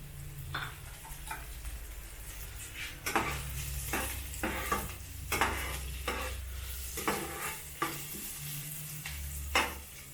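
Garlic sautés in a pan for Filipino tinolang tahong, giving a soft continuous sizzle broken by repeated sharp scrapes and clinks of a utensil stirring against the pan.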